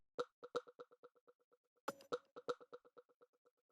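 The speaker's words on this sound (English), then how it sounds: "this drum rack, which has actually two percussion sounds in it" Two short percussion sounds from a minimal techno drum rack repeat in a quick, bouncy pattern of plopping hits, one brief noisy burst midway, dry, close and with no voices.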